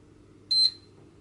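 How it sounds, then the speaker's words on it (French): A single short, high electronic beep, clean and steady for about a fifth of a second, from a green 12-line 360-degree self-levelling laser level being operated from a smartphone, sounding alone over a low background hum. "Comme on entend, c'est un bip différent lorsque le pilotage est à partir du smartphone."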